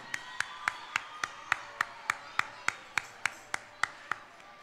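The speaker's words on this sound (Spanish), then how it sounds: "quiero que cada curso le dé un fuerte aplauso a este espléndido trabajo" At a school Chilean national day celebration, an audience claps for a third-grade class performance in a steady, even beat of about fifteen sharp claps, moderately close, with no talking.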